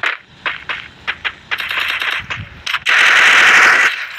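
Gunfire from the mobile battle game Free Fire Max sounds loud and close, first as a string of separate sharp shots, then as a dense unbroken automatic burst near the end.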